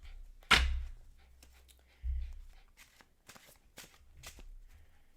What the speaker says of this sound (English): let me get the tarot cards